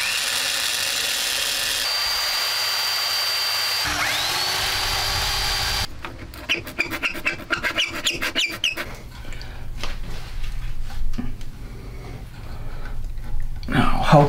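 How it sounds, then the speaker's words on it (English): Drill boring through material with step-up bits, widening a hole for a plumbing flange in a camper shell build; a steady whine gives way to irregular, loud grinding and cutting bursts that carry on to the end. "I'm gonna use three different drill bits to step up the size in order to get my flange, that flange, to fit."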